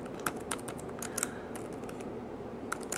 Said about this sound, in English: we'll type in here